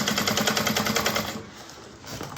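A sewing machine stitching a bag seam, a rapid even mechanical rattle of needle strokes for about a second and a half, close and clear, then stopping with light handling noise.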